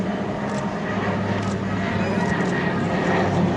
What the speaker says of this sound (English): PBY Catalina, consolidated build airplane